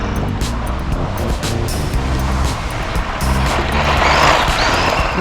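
A Tamiya Fire Dragon RC car with a stock 540 motor runs on a beach, its motor buzz mixing with steady broadband wind and surf noise that swells louder toward the end.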